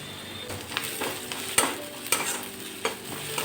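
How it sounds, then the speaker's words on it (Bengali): Chopped onion with salt frying in a pan over cumin seeds, a steady sizzle punctuated by several sharp scrapes and knocks of a spatula against the pan, close and clear with no talk. "এখন দিয়ে দিচ্ছি পেঁয়াজ কুচি। এখন পেঁয়াজটা ভেজে নেব।"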